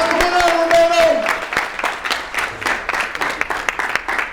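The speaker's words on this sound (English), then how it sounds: "let's give Roberto Blake a round of applause" A conference audience at a Podfest 2018 keynote claps for speaker Roberto Blake, a steady wash of applause that begins under a lingering voice and tone, then carries on alone.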